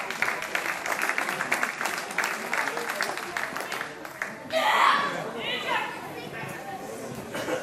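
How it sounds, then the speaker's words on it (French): An outdoor crowd claps steadily for a face-to-face combat demonstration, a dense patter of moderate applause followed by a burst of louder noise and voices. "On peut applaudir maintenant la démonstration de face à face"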